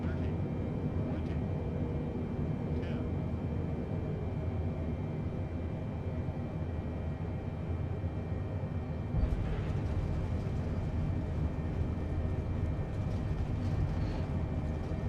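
A Boeing 747-8i in a flight simulator rolls out after landing with thrust reversers deployed, a steady loud engine roar that holds throughout, swelling slightly toward the end.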